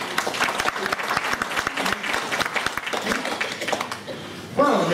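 Audience applause at a brass band contest, dense and steady clapping filling the hall for several seconds before dropping off, with a voice speaking briefly as it fades.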